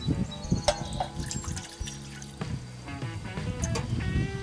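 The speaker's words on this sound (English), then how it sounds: "Still got a little bit of water. Gonna add 1 more cup in here." Water trickles and splashes as a cup of water is poured into a container on a barbecue grill while cooking ribs, with intermittent drips and clinks nearby.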